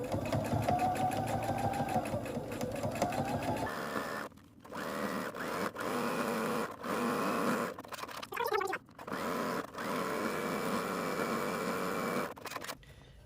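A sewing machine stitches the casing of a baby's sun hat in several runs, each a fast, close mechanical whir broken by short pauses and small clicks.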